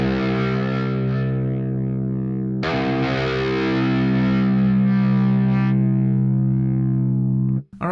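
Distorted electric guitar with a heavy metal tone and adjusted low end, one sustained chord ringing loud and alone, re-struck about midway with a brighter attack, then cut off abruptly at the end.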